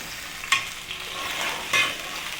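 Tomato paste is stirred into onions frying in a pan for chicken curry, with a soft steady sizzle and two distinct spoon scrapes against the pan a little over a second apart.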